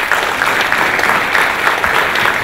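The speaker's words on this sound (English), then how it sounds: "Let's give President Kocherlakota a round of applause." Sustained applause from a luncheon audience, dense steady clapping filling the room at a constant level from start to finish with no pause.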